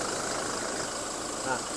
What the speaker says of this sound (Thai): ตอนนี้ผมให้ฟังเสียงเครื่องยนต์ดูนะครับ